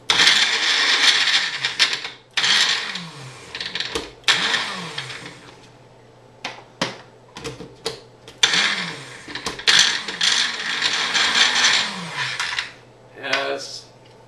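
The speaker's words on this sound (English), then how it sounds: "I got Magic Bullet for now. We're just gonna grind all these up." Magic Bullet blender grinding quinoa veggie burger ingredients in several short, loud pulses with pauses between, the motor whirring and rattling close by.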